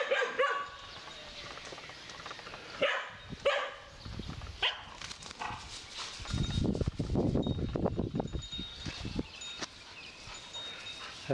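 Dogs in a Wang Pho, Thailand neighborhood bark at a snake in bursts of close, loud barks with yips and whimpers, rising into a sustained flurry partway through.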